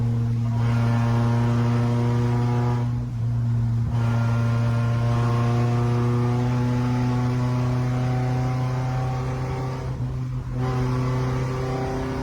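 A car engine, from a crashed marketplace seller's car, runs loud and rough with steady drone and brief throttle dips around three and ten seconds, on-off revving under constant engine hum.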